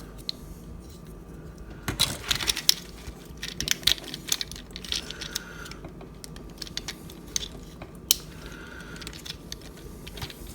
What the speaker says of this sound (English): Go ahead and pop this gun off.